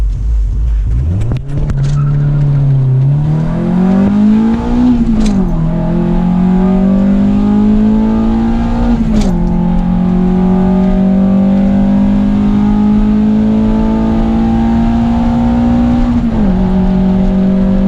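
An Acura Integra GSR fitted with a Skunk2 intake accelerates hard, its engine note rising loudly through several gears with brief dips at each shift, close and aggressive throughout.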